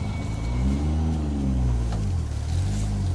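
A Nissan Skyline GT-R R32 pulls away, its engine note rising and falling in close, steady low-pitched harmonics. The rumble stays loud and continuous throughout, with no talk.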